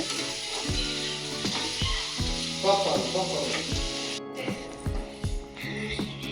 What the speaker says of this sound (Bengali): পেঁয়াজ ভাজা চলছে এখানে